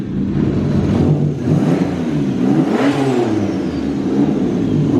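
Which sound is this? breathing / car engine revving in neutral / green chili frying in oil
car engine revving in neutral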